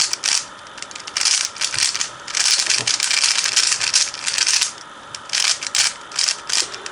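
Rapid bursts of plastic clicking and ratcheting come in quick flurries with short pauses between, close up, as a speed cube is turned fast.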